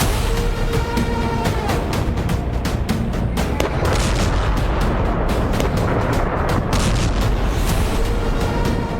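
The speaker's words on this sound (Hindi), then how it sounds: "कैपिटल कीव में ये धमाके बता रहे हैं कि पुतिन ने यूक्रेन में गाजा प्लान एक्टिव" Heavy booming blasts and crackling detonations come in rapid, dense succession, loud and sustained, explosions echoing across Kyiv, Ukraine.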